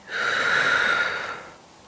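One long, close, breathy exhale through the mouth during a yoga back-rounding exercise, swelling quickly, holding, then fading away alone.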